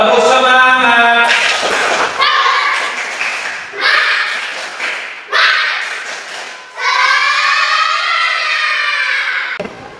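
Schoolchildren in a physical education class clap and chant the rhythmic 'tepuk semangat' routine together, bursts of loud group voices broken by sharp clap accents, with a sustained shouted chorus near the end.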